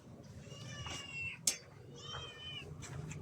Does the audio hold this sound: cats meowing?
yes